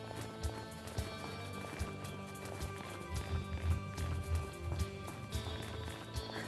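Hooves of a horse clip-clopping in the survival video game Westland Survival, a steady galloping rhythm set among layered game music and ambient sound, fairly quiet with no talking.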